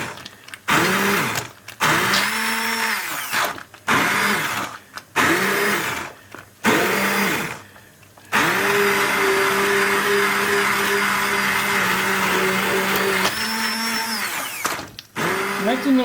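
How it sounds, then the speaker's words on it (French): A blender purees pea soup made with bacon, croutons and spices, its motor whirring loudly in repeated pulses that stop and start, then running in one long steady burst. "je vais mixer tout ça"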